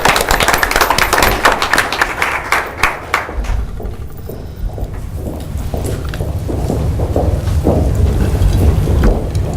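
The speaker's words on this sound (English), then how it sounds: "So if we could just do a round of applause for those kids that are not here." Audience members at a school board meeting applaud students with a burst of close, busy clapping for a few seconds; it then tapers off into a dull, rumbling room noise.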